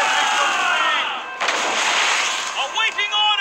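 Ship cannons firing in a naval battle in the video game Assassin's Creed Rogue: a loud, sustained rumbling barrage with a fresh burst midway, followed by crackling debris and shouted voices near the end.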